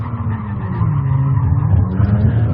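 A Kia Stinger's engine revs hard while drifting at SEMA, a loud, close, continuous growl with a rising strain and a rough, gritty edge, alone without voices.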